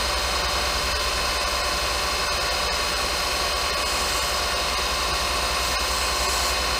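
A Monarch 10EE lathe runs while a grinding wheel is dressed on it, producing a steady, loud mechanical drone with a broad grinding hiss throughout and no talking.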